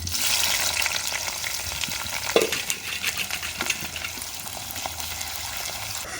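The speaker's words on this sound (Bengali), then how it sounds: "কড়াইতে তেল দিয়ে দিয়েছি এবার দিয়ে দেবো তেজপাতা পেঁয়াজ ও মরিচ" Bay leaf, onion and chili frying in hot oil in a wok during village-style chicken curry cooking, with a loud, steady crackling sizzle throughout and a brief sharp clatter partway through.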